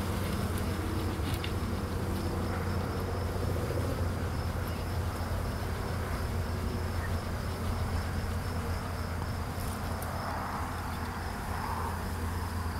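Bees swarming on a small pine tree during a capture make a dense, continuous buzzing hum that holds steady throughout, close and loud, with no talking.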